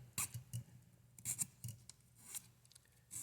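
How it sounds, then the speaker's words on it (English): A flat file rasps a chamfer into a carbon fiber part for a PNRacing V5 gimbal, making faint, close scraping strokes in short uneven bursts. "I just take my flat file, and I file this chamfer away, file the chamfer into the carbon"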